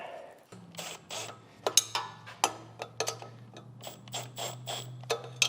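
Exhaust flange bolts being snugged in by hand with a ratchet on a 3rd-gen 2016-2023 Toyota Tacoma during an AWE Tuning exhaust install, giving a series of close, quick ratcheting clicks in short bursts over a low steady hum.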